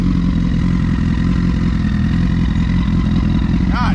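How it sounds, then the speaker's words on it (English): A motorcycle engine running loud and close, warming up before a test ride, with a steady, throbbing idle drone and mechanical clatter throughout and no talking. "I'm gonna try to get a test spin on Mike's bike real quick"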